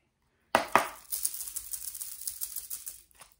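Tarot cards are shuffled by hand, opening with two sharp slaps followed by a quick run of light riffling clicks that fade out, close and alone with no voices.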